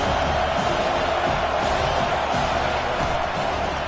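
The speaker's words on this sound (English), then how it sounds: "This crowd knows when to bring it." A football stadium crowd cheers in a dense, continuous roar that holds at an even level throughout, with no clear breaks.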